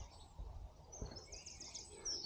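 Birds singing outdoors in the Yorkshire Dales near Bolton Castle, faint distant chirps and tweets in a quiet rural setting with soft background rumble.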